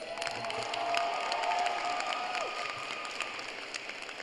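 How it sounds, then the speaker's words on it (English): Graduation ceremony audience applauding steadily throughout, a dense continuous patter of many hands clapping with a few scattered cheers and shouts from the crowd. "give them a round of applause"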